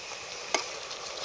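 Beef frying in a pan gives a soft, steady sizzle, broken once by a single sharp click of stirring.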